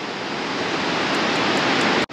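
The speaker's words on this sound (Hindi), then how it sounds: "भागीरथी नदी।" The Bhagirathi river at Uttarkashi rushes in a loud, steady broadband roar of fast water, continuous and close, cutting off abruptly near the end.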